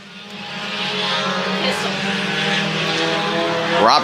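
Race cars on an oval track come off turn two and roar down the back straightaway, a loud sustained multi-engine drone that swells near the end as cars pass close.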